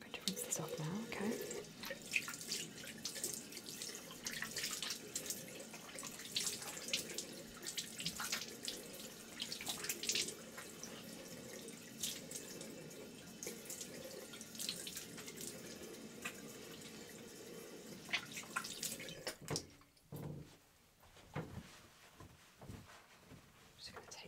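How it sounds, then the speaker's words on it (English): Tap water runs and splashes steadily as skincare product is rinsed off a face at a bathroom sink, close and fairly quiet with soft splashing, then stops toward the end, with quiet talk over it. "So I'm going to rinse this off now, okay?"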